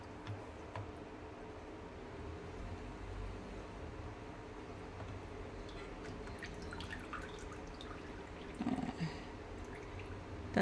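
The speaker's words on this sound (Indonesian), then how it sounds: "Yang ini ayamnya kita saring, kita tiriskan dulu." Fried chicken draining in a strainer, with oil dripping off in a quiet, steady patter of small ticking drops over a low background hum.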